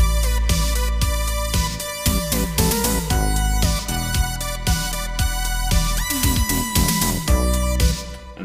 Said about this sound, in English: And then the second section, the second 4 bars sound like this.